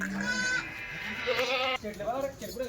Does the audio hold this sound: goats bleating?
yes